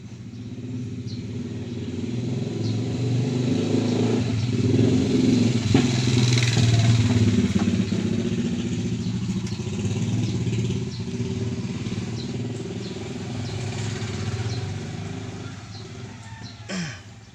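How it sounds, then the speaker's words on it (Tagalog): Delivery truck engine driving on a long haul between Quezon City and Bagong Silang, Caloocan, a steady close low rumble that swells slightly and holds throughout without speech. "Ito yung truck namin o"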